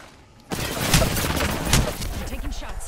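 Rapid gunfire bursts erupt in a battle royale video game, dense overlapping shots starting abruptly and continuing loud throughout, with a player's voice faintly under the shooting.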